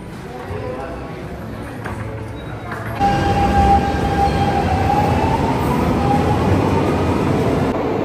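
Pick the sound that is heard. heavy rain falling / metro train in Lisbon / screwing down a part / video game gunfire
metro train in Lisbon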